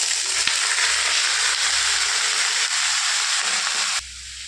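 Pointed gourd, ridge gourd, pumpkin and potato pieces fry in hot oil, giving a loud, steady, close hiss that runs without a break and then drops abruptly to a quieter sizzle near the end.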